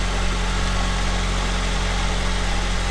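A 2001 Honda Civic engine idles after an oil pan and gasket replacement, a steady loud close rumble with a continuous low hum and no voices.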